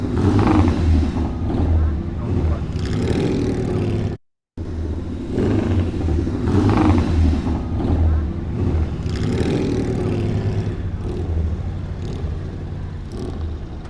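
An old Norton motorbike revs as it drives past on a UK road, a loud rumbling engine that rises and falls, with a brief dropout partway through.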